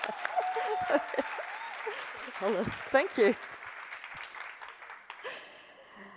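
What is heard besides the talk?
audience applause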